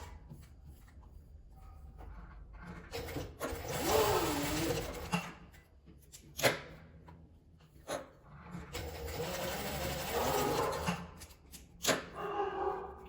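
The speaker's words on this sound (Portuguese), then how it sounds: "E passar a costura nas laterais." A sewing machine runs in two whirring bursts as it stitches the side seams of a small fabric card purse, separated by quieter pauses and a few sharp handling clicks nearby.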